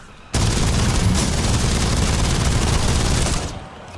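Submachine gun in a video game fires one long, loud, continuous burst lasting several seconds, with dense rapid shots blending into a roar that tapers off at the end.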